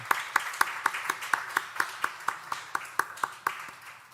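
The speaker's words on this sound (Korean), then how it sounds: "우리 환영의 박수 한번 하도록 하겠습니다" A church congregation claps in welcome for a newly registered member, sharp rhythmic claps landing roughly four times a second, steady and fairly close, with a faint murmur beneath.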